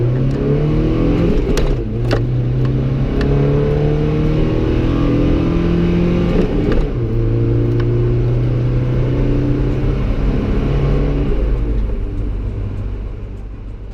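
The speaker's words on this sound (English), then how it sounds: "So the acceleration is, it's wild for something like this." A car converted to a Tesla electric motor accelerates hard, its drivetrain rising in pitch in steady sweeps, loud and close, with a low rumble underneath and no talking.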